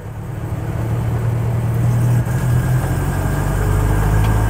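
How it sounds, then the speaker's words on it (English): A 1958 Ford Thames 400E bakery van, not fully warmed up, is shifted into second and pulls away, its loud engine droning steadily up close with a brief dip at the gear change. "So into second, let it pop down, into second, and away we go."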